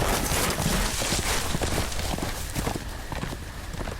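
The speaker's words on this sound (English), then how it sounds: "And there goes your horse." A horse gallops away in a Game of Thrones video game, its rapid hoofbeats thudding in a loose rhythm under a busy wash of in-game noise and fading slightly toward the end.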